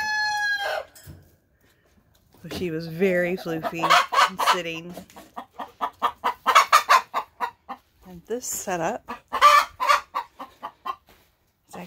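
Several hens cluck and squawk in loud, rhythmic bursts close by, one rising into a crow-like call, while someone speaks briefly over them.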